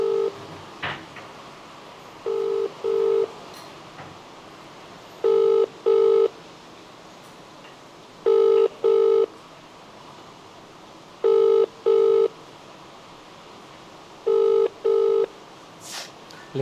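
A telephone rings during an outgoing call, five evenly spaced double rings about three seconds apart over a faint background hiss.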